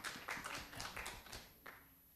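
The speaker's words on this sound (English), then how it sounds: "Got some applause for the Beaver baseball." A small, faint patter of applause at a farm bill listening session in Oregon, a few people clapping unevenly for a couple of seconds before it tapers off.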